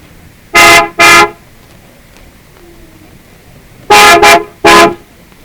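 A car horn in an old Tamil film scene honks twice, then after a pause three more times. The blasts are loud and close, with quiet in between.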